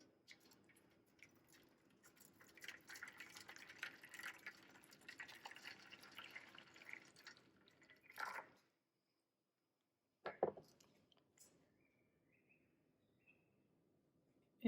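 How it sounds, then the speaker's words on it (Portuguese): Water poured into a baking tray for a bain-marie while making a four-milk Portuguese-style caramel pudding: a steady, moderately loud splashing pour lasting several seconds, then a pause and a brief second splash, with faint dripping afterward. "Aqui eu vou colocar essa água aqui no tabuleiro"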